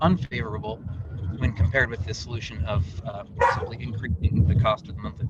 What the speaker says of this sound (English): Sorry about my dog barking there.